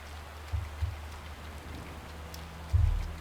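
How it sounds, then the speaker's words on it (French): Steady soft rain in the cozy video game Bear and Breakfast, a faint even patter under a few low thumps. "Tout va bien ici à part qu'il pleut."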